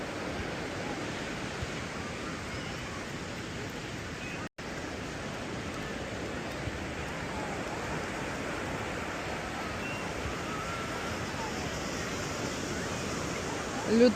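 Ocean surf washes onto a Moroccan beach in a continuous broad roar, steady and fairly loud, with a brief dropout partway through.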